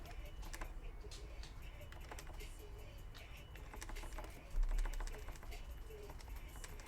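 Mechanical keyboard keys being tested in a fresh HHKB Professional Classic or Sho S23 build, giving scattered close clicks over a steady low hum and room noise, with a brief louder bump midway.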